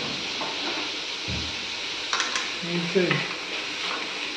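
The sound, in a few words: frying mushroom chilli fry in a pan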